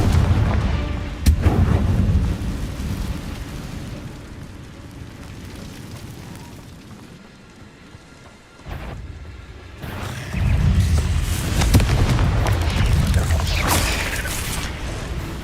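Confringo blasting spells in Hogwarts Legacy, heavy booming explosions bursting near and loud, with a rumbling lull between and a second cluster of blasts and crackling debris.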